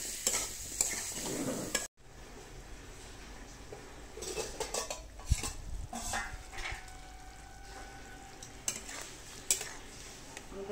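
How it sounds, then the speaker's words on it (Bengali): Potato and pumpkin pieces are sautéed with turmeric and salt in a pan, with a spoon scraping and clattering against the metal over a soft sizzle, and a sharp knock midway. "হলুদ নুন দিয়ে একটুখানি কষিয়ে জল দিয়ে দেবো"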